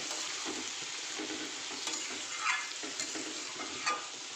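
Vegetables frying for a chowmein dinner in a home kitchen pan, a steady close sizzle with soft stirring scrapes and a few brighter crackles, no voices.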